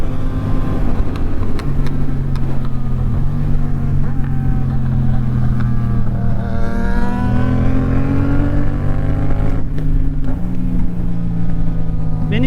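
A naked motorcycle, a Yamaha R6 or MT-07, drones loudly at top speed, its pitch shifting as it revs up and down, with heavy wind rush throughout.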